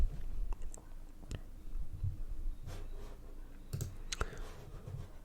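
A computer mouse clicks a few times in sharp, isolated taps during a VirtualBox setup on a Mac, close and quiet, with faint keyboard and desk noises between the clicks.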